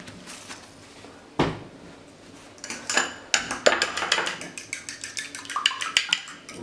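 Eggs and milk are beaten in a bowl, starting with a few scattered knocks and then breaking into a rapid, close run of clinking utensil strokes against the bowl.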